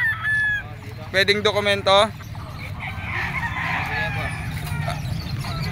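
Chickens and roosters at an outdoor market in Calumpit, Bulacan, give a loud harsh crowing call, followed by clucking and general market bustle, with someone talking briefly.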